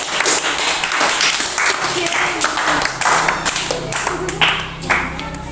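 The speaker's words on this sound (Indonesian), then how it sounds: "beri tepuk tangan dulu atas jawabannya serta pertanyaan dari Mas Reza" Classmates clap for a student's answer in a school lesson, a broadband patter of many hands that runs steadily through the whole stretch, with some voices mixed in.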